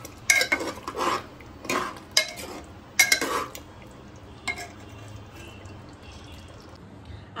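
A metal spoon stirring mutton handi in a pot after fresh cream is added, giving several scraping clinks and knocks in irregular bursts during the first few seconds, then quieter intermittent scrapes, no talk.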